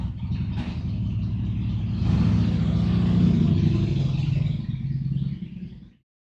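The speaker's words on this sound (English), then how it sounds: "So did you guys hear the motorcycle?" A motor vehicle rumbling past outside, a low engine drone that builds, peaks midway as it passes, then fades and cuts off abruptly, heard alone with no talk.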